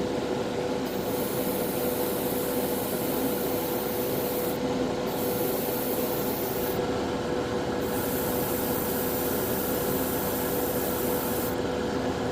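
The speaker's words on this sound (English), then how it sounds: "I'm going to spray it this color" A continuous hissing spray paint runs throughout, steady and close, with brief gaps in the highest hiss now and then, painting a Gundam model kit part.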